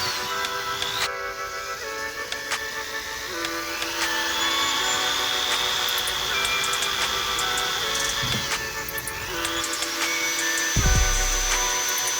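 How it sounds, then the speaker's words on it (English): A power drill whines steadily while boring pilot holes during a car strut brace install, its pitch shifting between sustained runs with brief pauses, close and fairly loud with no talking. "We just need something big enough that we can get our pilot holes drilled so that we can put bigger holes in easier."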